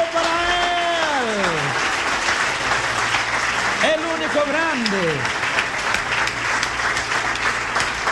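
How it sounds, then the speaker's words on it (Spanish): A church congregation claps loudly and continuously through the whole stretch while a preacher's voice rises over it and people shout. "¡Oh, fuerte el aplauso para Él!"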